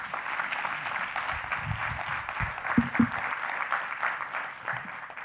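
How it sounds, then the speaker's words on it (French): An audience at a French business presentation applauds steadily, a close, even wash of many hands clapping that holds for several seconds without letting up. "Je crois qu'on peut les applaudir"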